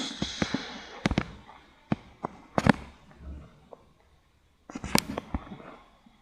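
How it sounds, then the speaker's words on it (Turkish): Sharp, scattered pops and bangs of video game explosions, some in quick clusters, separated by brief quiet gaps. "Patlamalar var arkadaşlar."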